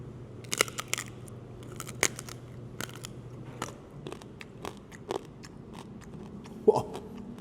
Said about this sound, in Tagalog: Tikman natin yung balat.